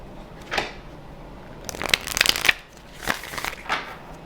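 A tarot card deck being shuffled in short riffling bursts, with a louder flurry of crisp card flicks in the middle and softer rustles before and after, close and alone.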